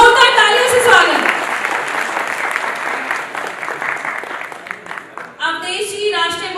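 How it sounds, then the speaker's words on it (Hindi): Audience at a national summit in Delhi applauding, a dense, loud wash of clapping that swells and thins, with voices and amplified talk over parts of it. "तो जोरदार तालियों से स्वागत"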